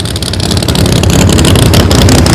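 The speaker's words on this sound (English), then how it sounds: "Garula with 959 cubic inches of nitrous injected Hemi under the hood" A nitrous-injected 959 cubic inch Hemi drag car engine roars loud and close at a dragway, a dense, rapidly pulsing blare that builds steadily in strength with no talking.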